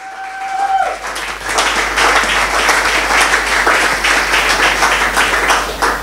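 A church congregation bursts into sustained, loud applause and cheering, a dense wash of clapping lasting several seconds after a preacher's brief voice.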